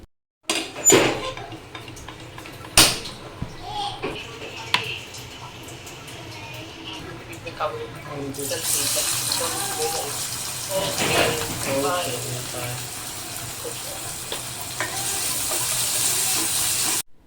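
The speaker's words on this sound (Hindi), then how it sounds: "ये मेरे हस्बैंड बर्तन धुलवाने में हेल्प करा रहे बेचारे" Running tap water splashes over dishes being washed in a crowded home kitchen sink, a steady rushing flow with scattered clinks and knocks of utensils and pots, fairly close and continuous.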